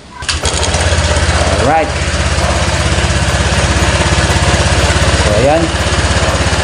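A Honda Click 125 scooter engine cranks and catches, then settles into a steady, loud, close idle that continues throughout, with someone briefly talking over it at the start.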